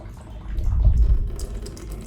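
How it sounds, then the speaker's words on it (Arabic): Water gushing steadily from a punctured water-filled balloon, a continuous low splashing flow that swells in the middle and then eases, close and fairly soft. "ان احنا لو فتحنا البالونه من النقطه دي الميه اللي هتطلع هتبقى ميه شبه ثابته"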